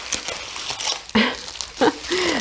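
Bubble wrap packaging crinkles and rustles up close in uneven bursts, with a few sharper crackles and a brief squeak near the end.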